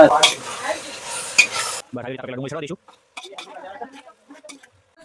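Onions frying in a pan for a paneer gravy in a village kitchen, a close crackling sizzle with stirring under chatty voices that then break into short bursts of talk.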